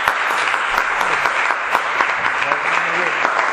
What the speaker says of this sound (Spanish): Muy bien, pues le damos un aplauso.